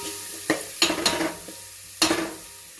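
Onions frying in oil with turmeric for a Goan-style prawn curry, a steady sizzle broken by three or four louder scraping stirs of a spoon against the pan, close and without talk.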